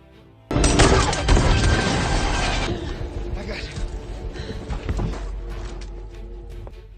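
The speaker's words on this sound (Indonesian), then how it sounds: "mereka langsung disambut tembakan yang dilakukan oleh seorang wanita" Gunfire in a film scene, a woman shooting, begins as a sudden loud burst of shots and crashing that rings out and slowly decays, with scattered sharper cracks following as voices murmur underneath.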